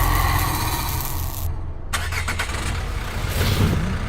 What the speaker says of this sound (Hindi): साहब, गाड़ी सेल्फ स्टार्ट हो गई।